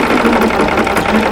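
An embroidery machine stitches a stocking design, producing a close, loud, fast mechanical buzz with rapid regular needle pulses that continues without pause, with no talk.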